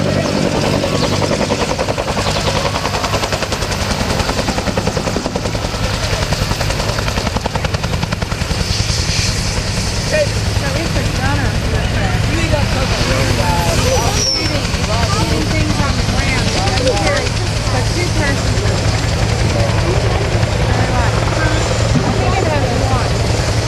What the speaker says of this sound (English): You can hear back behind you to your right the massive rotor system of the CH-53E turning